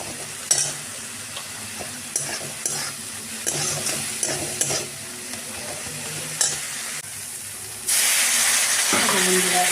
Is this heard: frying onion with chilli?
yes